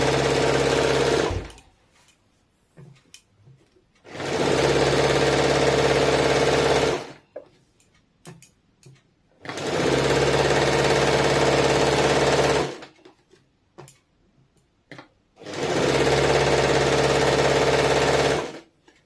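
Sewing machine stitching a second seam half an inch away on palazzo trousers, running in three long steady bursts of about three seconds each with quiet gaps between, close and loud.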